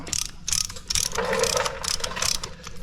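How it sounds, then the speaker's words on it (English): Brake caliper tool being ratcheted back on a Nissan Armada front caliper, a steady run of close, dense metallic clicking and rasping that continues for a few seconds with no talk. "So let's ratchet it back."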